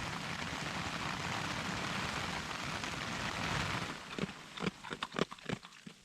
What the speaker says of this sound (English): It's pretty much pouring snow outside.